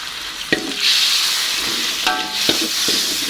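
Water poured onto cooked spice paste for oreg tempe sets off a loud, steady sizzle and hiss in the pan, broken by a few sharp clinks of a utensil stirring against the metal.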